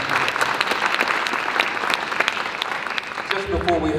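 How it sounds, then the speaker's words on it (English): An audience gives sustained, enthusiastic applause for a treasurer at a 2024 conference opening, dense even clapping throughout, with a voice starting to speak at the very end. "Let's give our treasurer another big hand of applause"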